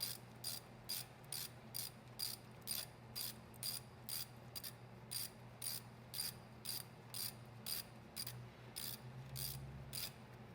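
A ratchet tightens a bolt on the brake caliper of a Lexus LX470, clicking in about twenty evenly spaced bursts, each a quick run of pawl clicks. The sound is close and fairly quiet, with no talk over it.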